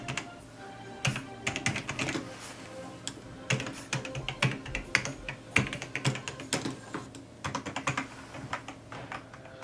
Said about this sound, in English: the feeling of having a mechanical keyboard feels great